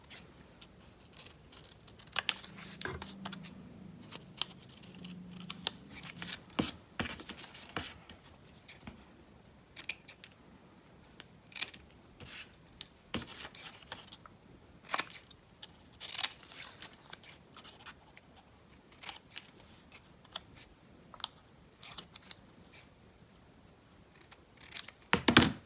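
Scissors trim paper for a handmade bauble Christmas card, with soft, close, intermittent snips and rustles of paper repeated at an irregular pace, all fairly quiet.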